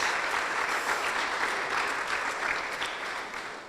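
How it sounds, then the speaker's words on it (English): Steady crowd applause at a fundraising event honoring a team, a dense continuous wash of many hands clapping, moderately distant, fading slightly at the end with no voices over it. "How about a round of applause for this amazing team?"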